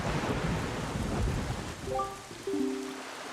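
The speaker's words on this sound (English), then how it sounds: "this place suffers under dark clouds and rain" Rain falling with rumbling thunder in a stormy, cursed island area of The Legend of Zelda: The Wind Waker HD, a steady wash of rain and low rolls alone, followed by a few sustained game tones near the end.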